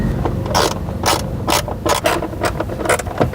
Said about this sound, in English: Tighten that bolt with your 10mm socket wrench.